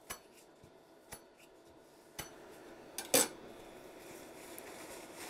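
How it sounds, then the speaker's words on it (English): A spatula being cleaned of resin with alcohol, a few sharp metallic clinks spaced about a second apart, then a brief louder scrape and rubbing, close and quiet with no talk. "I'm just gonna use this alcohol a little bit to clean off my spatula so the resin doesn't cure on it."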